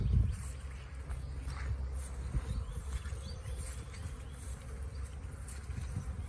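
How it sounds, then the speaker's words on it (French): Honeybees foraging around their hives on a bright early-spring day in March, collecting pollen from willows; a dense, continuous buzzing of many bees fills the scene close by. "C'est du pollen que les abeilles récoltent sur les saules"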